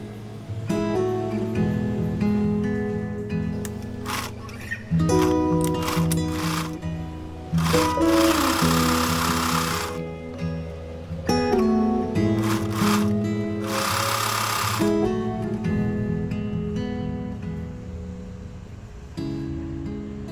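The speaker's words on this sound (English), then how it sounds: "Now we're going to sew the sides and bottom." A sewing machine stitches the sides and bottom of a leaf-shaped origami tote bag. Close, rapid whirring runs come in repeated bursts separated by brief pauses.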